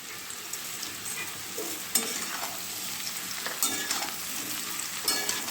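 Jackfruit pieces frying in hot oil with a spoonful of sugar, stirred in a pan: a steady close sizzle with scraping stir strokes at intervals, no voices.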